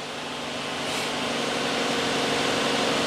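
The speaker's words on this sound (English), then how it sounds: "We're idling about 1500 RPM and the engine is still cold." A cold car engine runs on fast idle at about 1500 RPM during an oil pressure check, giving a steady, close, continuous hum and drone that holds level and slightly swells without pause.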